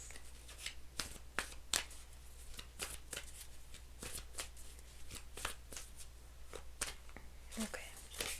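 Playing cards are shuffled over and over in quick, crisp riffles and flutters at close range, the bursts irregular against a steady low hum, with a faint voice now and then.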